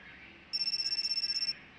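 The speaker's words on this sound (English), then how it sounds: "My phone rang." A phone rings with a quick, bright electronic warble pulsing about a dozen times in one short burst, fairly faint and alone.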